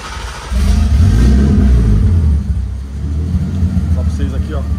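Turbocharged BMW 328 E46 2.8-litre six-cylinder catches and settles into a deep, steady idle rumble close by, while someone talks over it.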